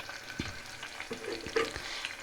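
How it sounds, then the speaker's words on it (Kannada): Onions and green chillies frying in oil, a soft, quiet sizzle with a few brief stirring scrapes and knocks over a short stretch, no talking. "ಈರುಳ್ಳಿನೂ ಕೂಡ ಚೆನ್ನಾಗಿ ಫ್ರೈ ಆಗಬೇಕು"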